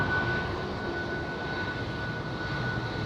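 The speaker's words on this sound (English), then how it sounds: "There goes the A330 of Delta Airlines." Delta Air Lines Airbus A330 passing at Amsterdam Schiphol airport, a steady broadband jet engine roar holding at a loud level throughout, with no talk over it.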